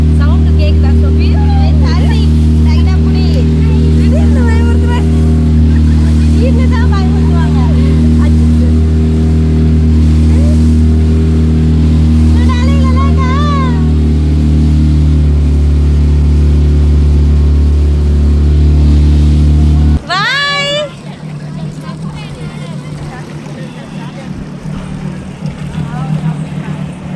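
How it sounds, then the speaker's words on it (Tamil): A motorboat engine drones steadily on a lake, a loud, close, even hum that drops out abruptly about three quarters through, with people talking over it. "மோட்டார் போட்டில் ஏற போகிறோம்."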